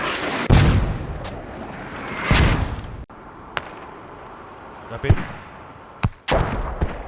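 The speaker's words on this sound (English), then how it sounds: "Enemy mortars are on checkpoint." Enemy mortar rounds slam around a checkpoint in a tactical shooter: several sharp, loud blasts spaced a second or two apart, each with a short rumbling tail, while voices talk over the radio between impacts.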